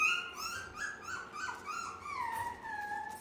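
Week-old tri-colored female puppies whimpering as they play, a string of high, wavering whines and squeaks repeating close by, fairly soft and continuous with no talking.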